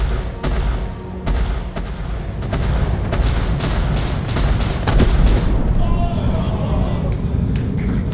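Ship turret gunfire in the space game Star Citizen fights off pirates. A rapid, dense volley of loud shots and booms rolls on for several seconds, then thins toward the end.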